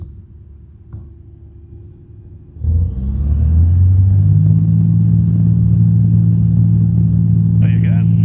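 A light aircraft engine climbs from idle into a loud, steady full-power drone as the plane begins its takeoff run, close and continuous, over cockpit hiss, with a brief voice near the end.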